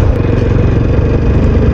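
A TVS Apache RTR 160 4V BS6 motorcycle engine running up close, a loud steady throbbing rumble with a faint rattle, no talk over it.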